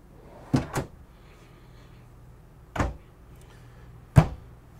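Shallow full-extension pantry drawers in a 2023 Renegade Verona 36VSB RV open and close, giving a quick double knock followed by two more single thuds, close and fairly crisp, with no talking.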